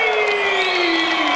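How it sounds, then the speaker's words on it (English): A fight crowd cheers and roars at the finish of a boxing bout, a dense, loud, continuous wall of voices with whoops rising over it. "Crowd are on their feet."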